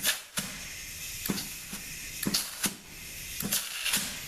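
Compressed air check of the clutch passages in a ZF6HP26 transmission valve body, short sharp hissing blasts repeated in irregular bursts over a faint background hiss.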